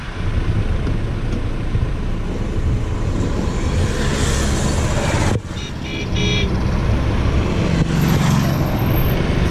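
A goods vehicle from Ara, Bihar pulls up outdoors, a loud, continuous engine rumble with road noise and a brief horn toot, the drone dipping for a moment before resuming.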